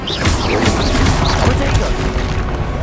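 Confringo spell explosion in the wizarding game Hogwarts Legacy: a dense, loud crashing blast with smashing debris that stays busy for about three seconds, with spoken voices mixed in.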